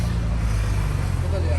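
Steady low rumble of street traffic in Amman with engines droning and no horns sounding, fairly loud and continuous, with a person talking over it.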